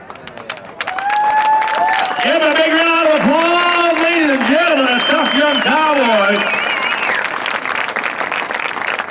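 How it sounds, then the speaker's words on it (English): Rodeo crowd applauding loudly and steadily in an outdoor arena, a sustained wash of clapping with an announcer's voice talking over it throughout. "Give a big round of applause, ladies and gentlemen."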